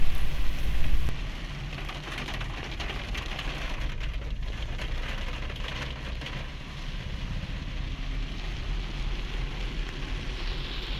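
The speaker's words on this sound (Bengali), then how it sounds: "তখন কিছুটা যেতেই ঝমঝমিয়ে বৃষ্টি শুরু হলো" A heavy monsoon downpour drums on a surface in the Dooars hills, a loud, continuous wash of rain that eases slightly after the first second and then holds steady.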